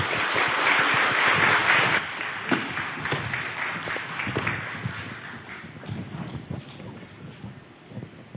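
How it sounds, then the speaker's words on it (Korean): Audience at an awards ceremony for distinguished military-service families applauds in a dense, steady burst that thins after about two seconds into scattered claps. "여러분 뜨거운 박수 보내주시기 바랍니다"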